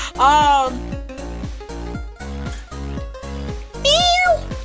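A house cat meows repeatedly, a long wavering cry at the start and another near the end, close and fairly loud, with short voiced sounds between and a steady low hum beneath.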